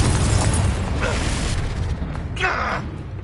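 Confringo blasting spell from the Hogwarts Legacy video game on PS5, a loud explosive burst with crackling debris and a second flare of bright noise about two seconds later over a dense rumbling background.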